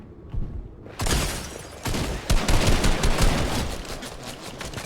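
Gunfire in a video game, bursts of rapid automatic shots after a brief quiet start, loud and dense with several short pauses between volleys.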